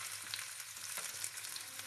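Onions frying in oil, a soft continuous sizzle with faint spatters, fairly quiet and without voices.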